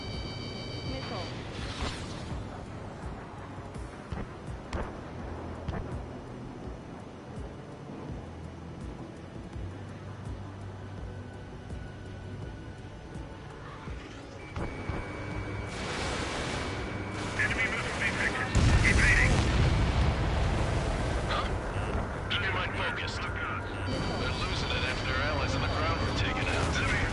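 Missile launches and explosions during jet combat in Ace Combat 7. A low engine drone and scattered bangs build into loud, continuous blasts and roaring bursts in the second half, with radio-style voices talking underneath.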